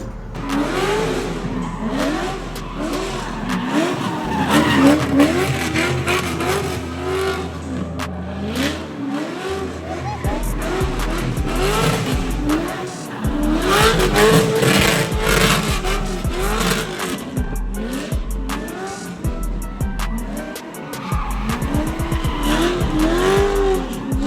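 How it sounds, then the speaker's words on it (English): A car spins crazy donuts beside a Toyota GR86 with a loud aftermarket exhaust, engine revs surging and falling in waves while tires squeal and skid continuously, close and loud. "Insert clip of Vet doing crazy donuts"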